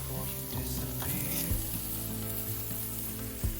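Steady sizzling and crackling of steaks frying in a hot pan over high heat, continuous and close, with faint clinks of utensils.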